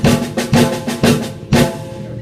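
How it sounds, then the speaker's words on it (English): A bass drum is played in basic triplets, its loud booming strokes blurring into a dense, continuous rumble. Heavy accents land about every half second, up close, with nothing else playing. "So I just played the bass drum for a time."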